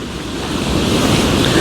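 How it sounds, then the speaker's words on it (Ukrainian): Loud sea waves roaring onto the shore at Kryzhanivka beach, a continuous heavy surf wash mixed with wind buffeting the microphone, no voices. "Може вони нічого не чули, ці люди, тому що море шумить."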